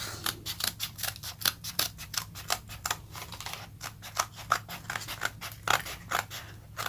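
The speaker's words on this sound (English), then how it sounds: "Let me see if these scissors will handle it." Scissors cutting through faux leather with a fast run of crisp snipping clicks, roughly three to four per second, near and distinct, with no voices.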